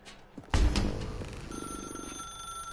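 A telephone rings in the video game The Stanley Parable 2. A thud is followed by a ringing bell tone that is sustained and moderately loud, over a low room rumble.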